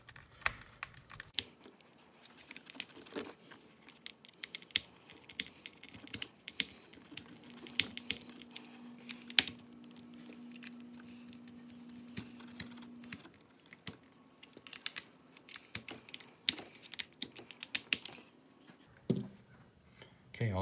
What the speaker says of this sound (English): So we're gonna snug everything down with our 6 screws.